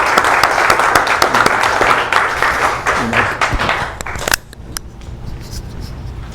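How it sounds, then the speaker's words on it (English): Audience applause at a tech demo night, a burst of dense clapping with a few whoops that fades out after about four seconds, leaving quieter room noise and a voice. "Another round of applause for all of our demos."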